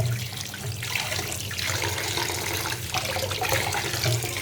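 Tap water runs continuously while rui fish is rinsed in a home kitchen, a steady close rushing splash with slight shifts in flow and no talking.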